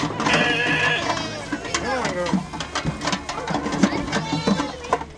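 Goats bleat over and over at a grazing site in Hangman Park, a Spokane city park, where about 200 of them clear fire fuels and weeds; the wavering calls overlap, with some mechanical clicking and a voice speaking over them.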